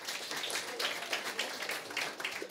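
Stand-up comedy show audience applauding, a dense steady patter of many hands clapping at moderate distance, sustained evenly without breaks.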